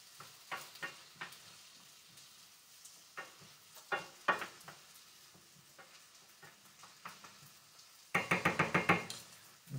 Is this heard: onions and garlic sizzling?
yes